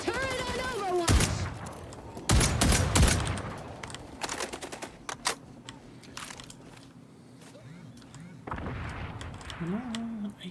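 Rapid bursts of automated turret fire in the shooter game xDefiant, loud close volleys of gunshots in clusters with pauses between them, with a player's voice talking over the action.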